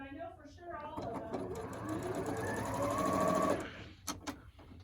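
A sewing machine stitching a quilt block runs in a steady, close whirring burst for about three seconds, then stops, with a voice talking over it at the start.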